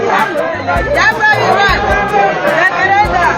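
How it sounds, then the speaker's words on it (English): Large outdoor crowd at a Biafra referendum gathering in southeast Nigeria, a dense, continuous babble of many voices chattering close and loud throughout, with occasional low thumps underneath. "We have so much crowd here."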